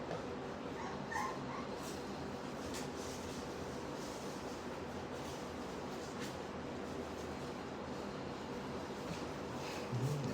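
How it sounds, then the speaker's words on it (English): Three-week-old puppies whimper, yip and bark almost nonstop while playing, a dense close chorus of small voices at steady loudness with no talking. "Let them be puppies for 3 minutes."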